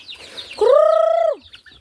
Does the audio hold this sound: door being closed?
no